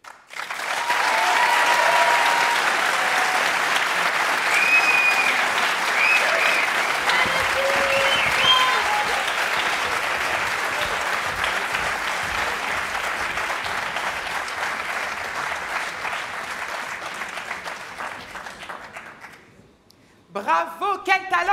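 Audience at an evening student stage performance applauds loudly and steadily for about twenty seconds, the clapping fading near the end before a brief burst of noise returns.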